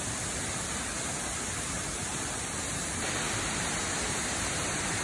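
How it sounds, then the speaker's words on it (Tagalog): Water tumbles at a waterfall along the Taki-Jinja Shrine hiking trail, a constant loud rush that swells slightly partway through, heard alone with no talking. "Ayan po yung falls na sinasabi ng anak ko."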